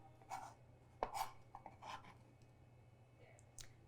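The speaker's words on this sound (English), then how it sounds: "cut them into little squares" Knife chopping cucumber into small squares on a cutting board, a few sparse close taps spread unevenly over a quiet kitchen background with a steady low hum.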